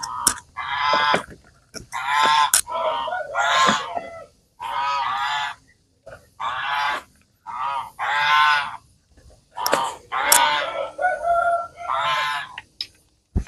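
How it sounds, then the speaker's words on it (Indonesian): Geese on a poultry farm honk in loud, repeated bursts, several calls overlapping in choppy clusters with short pauses between them. "ini angsa kami ya teman-teman."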